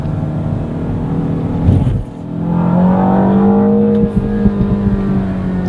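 A Mini John Cooper Works engine revs hard through the gears from inside the cabin, a loud rising drone that briefly dips at a shift and then climbs again.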